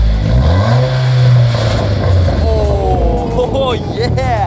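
Dodge SRT4 engine with a new custom exhaust revving up, close and loud, the pitch climbing in a rising sweep then settling back toward idle, with a voice speaking over part of it.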